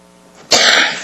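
A man gives a single sharp, loud cough, sudden and close, fading quickly, with no talk around it.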